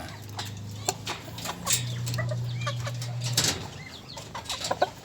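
A mother hen on a small backyard poultry farm gives soft, low clucks close by, with a long steady croon in the middle and scattered clicks and rustles from the surrounding fowl. No one speaks.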